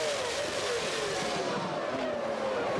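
Two 1999 McLaren Formula 1 cars race into the first corner at Spa, a loud, continuous, high engine whine that dips in pitch as they brake, close and dominant, with no talking.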